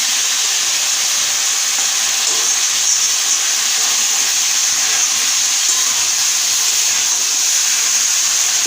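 Steady loud hiss and sizzle of steam rising as water hits a hot pan of cauliflower and potato curry, continuous and close throughout with no talking.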